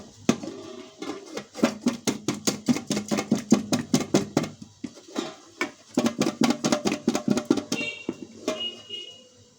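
Potato and ground spices shaken hard in a covered pan, a fast run of sharp rattling knocks in steady bursts with a short pause midway, close and loud.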